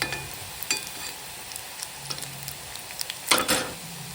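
Takla leaf bhaji (fritters) frying in a small amount of oil over a gas flame, a steady close sizzle with occasional light stirring scrapes and a louder burst of crackle near the end.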